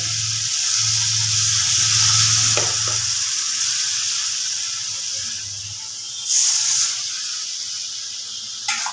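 A splash of water goes into a pan of okra, potato and tomato, giving a sharp sizzle and hiss that gradually settles into a softer simmering crackle, with a brief stirring clatter near the end and no talk.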